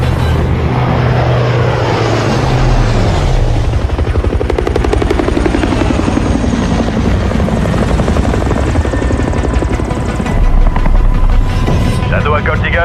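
In an action film, an aircraft engine whines and rotor-like thumping builds loudly during taxi and takeoff, a dense, continuous roar with a rising pitch sweep, and voices of radio chatter sit underneath.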